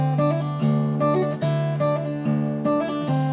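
A slack key guitar plays a phrase of plucked notes joined by hammer-ons and pull-offs, ringing clearly and close in an even rhythm with no voice over it.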